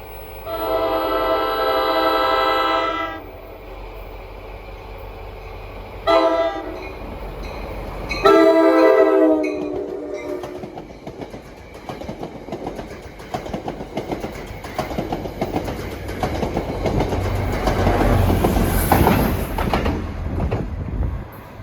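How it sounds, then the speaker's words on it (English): An NJ Transit commuter train on the Main Line passes close by, opening with a loud multi-tone horn blast, then more horn bursts over the rising rumble and rail clatter of the passing cars, with no talk. "Here comes 1272 Warwick to Hoboken at 2:17."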